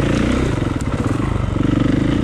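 Dirt motorcycle ridden along a narrow single-track trail through Georgia woods, engine loud and close with a steady pulsing throb and rough clatter throughout.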